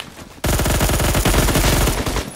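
Rapid automatic fire from an M231 rifle in the game Phantom Forces, a loud continuous burst of densely packed shots lasting about two seconds after a short quiet lead-in.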